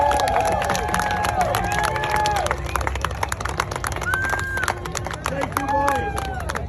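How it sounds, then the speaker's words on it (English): Outdoor crowd at Rolling Thunder 2022 clapping and cheering for Neil, with scattered claps, whoops and babbling voices over steady open-air noise, sustained throughout. "So I just want to get a round of applause for Neil"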